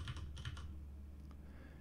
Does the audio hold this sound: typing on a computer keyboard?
yes